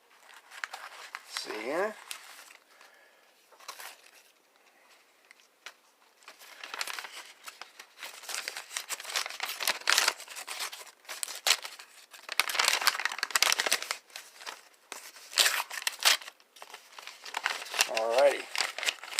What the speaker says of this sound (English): let me just slide this card out of here